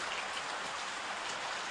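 Steady rain falls on the ground in a wildlife safari setting, a dense even hiss of drops with no voices.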